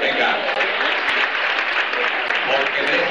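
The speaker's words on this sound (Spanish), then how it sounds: "desde aquí debemos de darle otro nuevo aplauso" A carnival festival crowd in Nerja applauds, a loud, dense, even wash of clapping close by that runs unbroken from start to finish, with a few sharper individual claps standing out.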